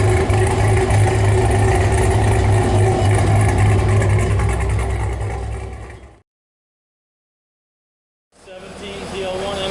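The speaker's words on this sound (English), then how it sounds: "That's how a Camaro should sound." Stock Chevrolet Camaro with a Rotofab cold air intake, a loud, steady engine drone running close for about six seconds, cutting to silence, then resuming near the end.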